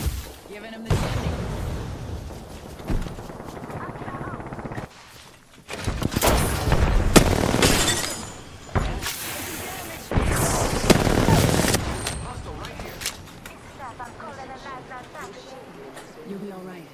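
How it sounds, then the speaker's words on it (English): R-99 submachine gun fire in a video game comes in loud rapid bursts and sharp cracks, repeated through the stretch with short pauses between, mixed with thuds and a voice speaking over the action. "Opening fire on the enemy."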